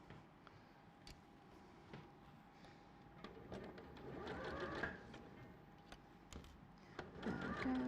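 A domestic sewing machine stitches a quarter-inch seam on an Attic Windows quilt block, a steady mechanical whir rising and falling in bursts, close and moderately loud with light handling clicks between runs.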